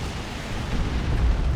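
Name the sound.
rocket launcher explosions in Warhammer 40,000: Dawn of War 2 video game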